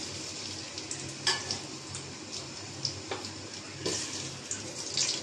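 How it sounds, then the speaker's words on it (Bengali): Chopped onions fry in oil in a cooking pot for pilaf, giving a soft continuous sizzle with occasional brief spatters and clinks, fairly quiet and close, no talking. "পেঁয়াজটা ভেজে নেব।"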